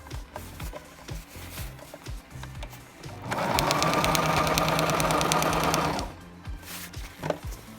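A sewing machine runs in one steady, loud burst of about three seconds as it stitches cased elastic into a cloth diaper, with quieter handling of fabric before and after.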